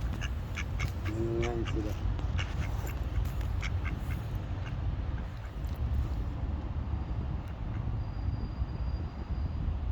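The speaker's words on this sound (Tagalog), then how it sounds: "Dalawang itik po nandito sa Paris nakita ko." Two ducks quacking in the city of Paris near a church, a short run of quacks early on against steady outdoor city noise, with someone talking.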